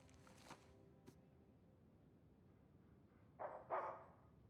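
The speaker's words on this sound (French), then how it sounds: "Oh, il y a le bébé chien." A puppy in Uncharted 4 gives two quick, faint barks near the end, after a mostly quiet stretch with a few soft taps and footsteps.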